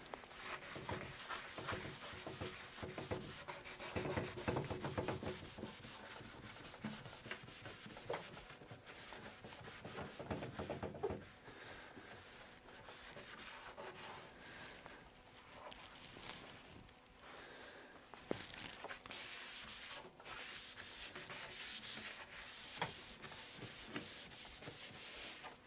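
A wooden cabinet side wiped down with clear water during furniture restoration, giving a steady close scrubbing rub that runs throughout, strongest in the first half, with no talk.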